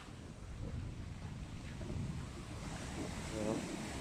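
Sea waves surge and crash onto the shore at Tha Sala, Nakhon Si Thammarat, after Storm Pabuk. A continuous broad roar of surf is heavily buffeted by wind noise on the microphone.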